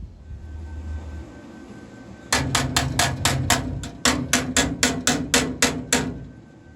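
Hammer tapping thick rusty metal flat on a Ford Cortina cross member, a run of about a dozen sharp ringing metallic blows in a fairly even rhythm, close and loud after a quieter opening.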